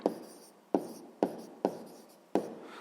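A pen or pencil writes an answer on paper in five distinct, evenly spaced scratchy strokes, each starting sharp and trailing off, quiet and close with no talking.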